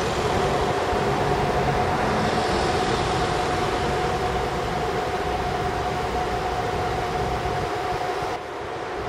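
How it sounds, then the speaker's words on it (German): The battery climate control of an Opel Ampera-e runs while the car fast-charges, a steady broadband whir with a faint constant tone, fairly quiet and unbroken, dipping slightly near the end. "hier unten hört ihr die Akkuklimatisierung"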